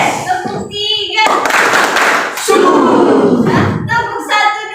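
Children in a classroom clapping a counted class clap pattern, with bursts of hand claps between young voices chanting and talking, fairly loud and close.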